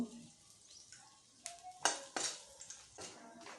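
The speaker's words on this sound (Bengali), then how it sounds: "এবার একটু তেল দেবো, তেজপাতা, শুকনো লঙ্কা, একটু গোটা জিরে ফোড়ন দেব" Bay leaf, dried red chilli and whole cumin fry in hot oil for a vegetarian potato curry, with a faint sizzle under several sharp clinks of a spoon against the pan.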